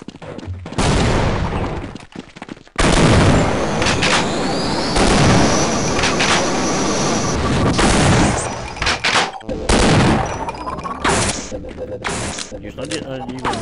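Gunshots in the Half-Life video game, loud, dense, repeated blasts and booms filling most of the stretch, with a person talking over the firing.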